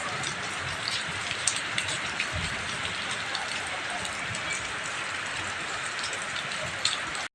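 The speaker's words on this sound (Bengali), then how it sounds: "চলো, বৃষ্টি পড়ছে, দেখো বৃষ্টি পড়ছে, জানলা দিয়ে দেখাই" Rain pours down outside a window, giving a dense, continuous patter with scattered louder drops close by. The downpour holds steady before stopping abruptly at the end.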